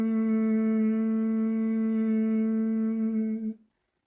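A single person hums one steady, clear tone as a calming sound for children's yoga, held for about three and a half seconds, then it fades out into silence.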